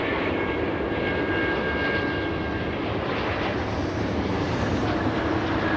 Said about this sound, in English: We have the Trent 7000s powering the A330neo.